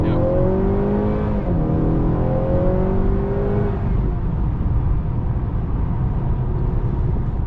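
A 2021 Honda Accord 2.0T Sport's turbo four-cylinder revs in neutral, rising steadily and then easing back to a loud, even drone that continues on its own without talk.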